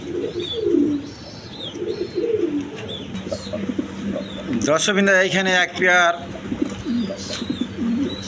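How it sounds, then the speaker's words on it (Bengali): Large Mundian pigeons in a big cage coo repeatedly at close range, with someone speaking over and between the calls. "দেখে দানব কবুতর আছে যাকে বলে মুন্ডিয়ান"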